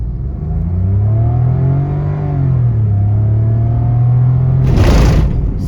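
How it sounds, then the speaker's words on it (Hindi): A 2026 Maruti Fronx accelerates hard from a standstill, the engine note rising steadily and falling back between gear changes, loud and close inside the cabin, with a rushing burst of noise near the end. "बहुत क्विकली ये गाड़ी स्पीड अपनी पकड़ती है"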